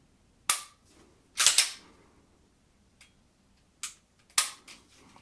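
A Smith & Wesson CSX pistol fires five sharp, loud, close shots in an uneven rhythm, each a crisp crack with a short ringing tail, and a faint click between them.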